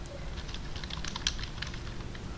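A computer keyboard being typed on to enter a file name: soft, close key clicks in a quick, steady patter over a low background hum, with no talking.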